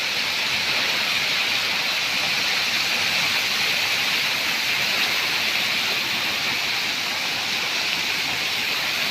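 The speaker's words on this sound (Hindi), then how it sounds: "पानी प्रखर बहुत अधिक।" Strong floodwater rushes continuously after days of nonstop rain in a waterlogged village in Odisha, a dense, loud, unbroken roar of flowing water with no voices.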